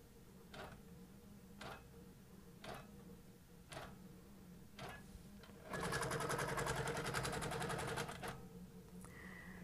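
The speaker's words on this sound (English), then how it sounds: "Tap run, and we'll go ahead and stitch this out." A longarm quilting machine with Pro-Stitcher stitching a border design. Faint regular ticks give way to a steady whirring run of stitching, then it quiets again.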